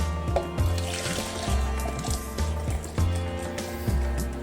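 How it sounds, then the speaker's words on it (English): Pistachio-flavored kulfi milk mixture poured into a cup, a close liquid pour with repeated soft glugs and drips in a steady uneven rhythm, with no talking. "we transfer our pistachio flavored milk into a cup which can make it easy to pour"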